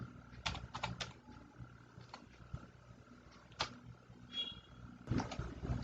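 Typing on a computer keyboard, scattered key clicks and short bursts of taps, quiet and close, with a faint steady hum beneath and a brief chirp in the background.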